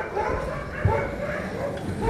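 Several dogs at an animal shelter bark and yip in a continuous, overlapping din, fairly close and loud throughout.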